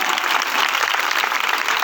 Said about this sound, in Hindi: ताली मारिबा